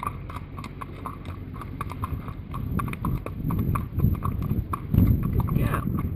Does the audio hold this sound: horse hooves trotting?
yes